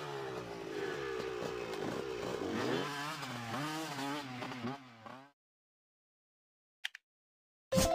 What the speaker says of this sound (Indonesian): Motocross.